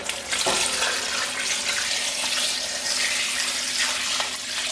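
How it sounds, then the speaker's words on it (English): Tap water running steadily into a pot of beef bone soup, a continuous loud splashing hiss that stays even throughout with no talking. "I'm just topping it up with water now."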